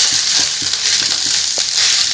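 Soya momo filling of mashed soya chunks fries in a pan over a low flame, with a loud continuous sizzle and soft, regular scrapes of stirring, close up and without talk.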